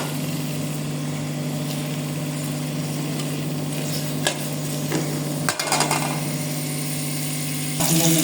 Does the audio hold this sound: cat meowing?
no